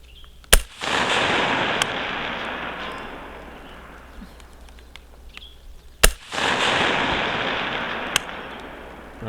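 Two sharp rifle gunshots fired at targets through an AR-style rifle with a low-power variable optic, each crack followed by a long rolling echo across an outdoor range, spaced several seconds apart with no talking.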